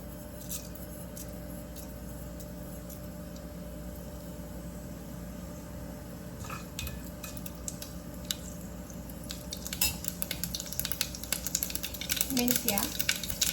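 Mustard seeds dropped into hot oil, a low steady sizzle that turns into a burst of sharp crackling and popping near the end.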